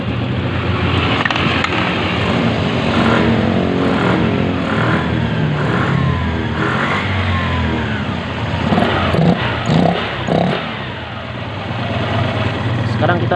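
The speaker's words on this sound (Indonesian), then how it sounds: "Sekarang kita tinggal nyalain, kita hidupin motornya." A Honda All New Vario 150 scooter engine starts and runs at a steady, close hum with a few small rises in revs, under talk for most of its length.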